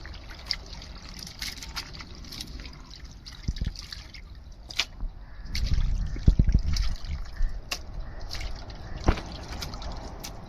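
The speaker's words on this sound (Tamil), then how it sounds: "விரவி மஞ்சத்தூள் போட்டு நல்லா அலசி எடுத்துக்கிடுவோம்" Turmeric-coated chicken pieces rinsed in water: close splashing, dripping and trickling with scattered clinks and sloshes, irregular and moderately loud, growing busier midway.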